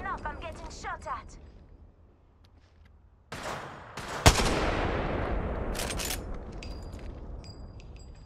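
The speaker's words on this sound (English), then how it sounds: "I'm getting shot at." Gunfire erupts in a video game match, a rapid burst of shots followed by a sharp loud crack and a sustained roar of fire and impacts, with a voice speaking briefly before the shooting.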